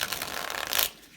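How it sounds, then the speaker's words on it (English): A deck of tarot cards being shuffled: a quick, dense papery riffle lasting about a second, close and fairly soft, then dropping away to near silence. "Maybe one more shuffle."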